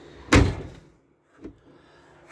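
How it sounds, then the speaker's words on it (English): A 2018 Bailey Advance 74-4 caravan door is opened with a sharp close thud, followed by a softer click about a second later and a faint knock at the end, with no talking. "to open the door, press it again"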